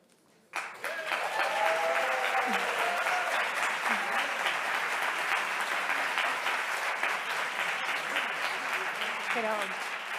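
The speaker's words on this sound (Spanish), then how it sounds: "Esta es la sesión que se recibe con un aplauso cuando entran" An audience at a science-communication plenary on emergencies bursts into applause as people enter the session, starting abruptly after a brief quiet moment and continuing as steady, full clapping, with a few voices audible underneath.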